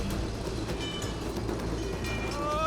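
Trains passing by in It Takes Two: a steady, continuous rumble of rolling rail cars with faint clattering and a rising whine near the end, loud and close throughout.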